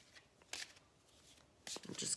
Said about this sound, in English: I'll just give it another good shuffle.